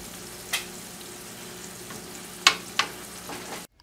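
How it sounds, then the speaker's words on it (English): Potato fries frying in safflower oil in a pan give a steady close sizzle, broken by a few sharp crackles and pops. "After some time in the pan, your fries will start to become golden to golden brown in color."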